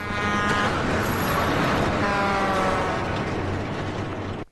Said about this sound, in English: That sound effect is what I call the Wilhelm truck scream.